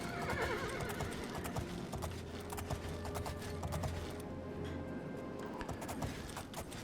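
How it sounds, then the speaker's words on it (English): A horse in the video game Oblivion neighs and its hooves clip-clop steadily, with whinnies and rhythmic hoof clatter continuing throughout, close and loud, alongside faint creaking mechanisms. "Get around this horse."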